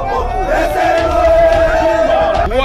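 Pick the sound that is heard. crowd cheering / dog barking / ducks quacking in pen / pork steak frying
crowd cheering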